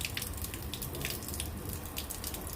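Water flowing from a Florabest programmable garden watering timer, a faint, continuous hiss and trickle with no break.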